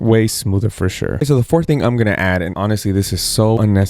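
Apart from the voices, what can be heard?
No everyday noises stand out.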